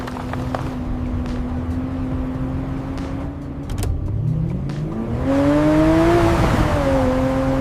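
A steady car engine hum runs under light background noise, then the engine revs up sharply and grows louder as an AI-generated car accelerates straight toward the camera, its pitch rising and dipping as it closes in.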